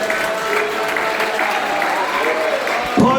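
A Portuguese-speaking church congregation applauds during a sermon, a continuous close wash of many hands clapping with voices rising through it.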